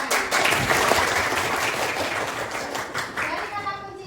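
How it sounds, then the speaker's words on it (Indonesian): Applause from a group of teachers in a training session, a dense burst of clapping that starts strong and slowly tapers off over a few seconds. "Tepuk tangan."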